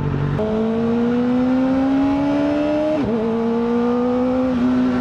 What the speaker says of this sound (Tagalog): grabe yung rev niya. Ang ingay.